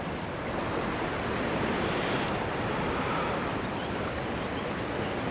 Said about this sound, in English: you have to wait for the right moment where the wind, just dies down for a couple of seconds